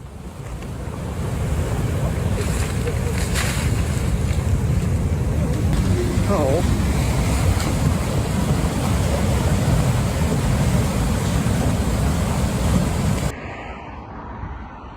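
Overflowing Sjøa River in Norway carrying massive blocks of ice, a loud continuous roaring rush of churning water that holds steady for most of the clip before cutting off abruptly near the end.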